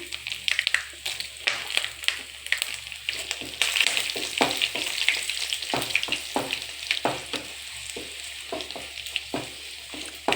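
Dried red chillies fry in a pan, giving a steady close sizzle broken by frequent stirring scrapes and clatters, with no voice.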